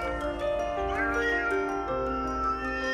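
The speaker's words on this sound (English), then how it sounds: "So Wisdom climbed up onto a nearby fence and meowed loudly." A cat meows loudly and continuously, a long drawn-out wavering caterwaul that stays close and strong throughout.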